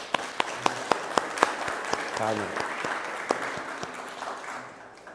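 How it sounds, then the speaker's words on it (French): A church congregation at a Baptist service claps in thanks, with sharp, evenly spaced claps over a murmuring crowd while a voice speaks briefly in the middle. "On va seulement leur demander de se lever pour qu'on puisse les applaudir"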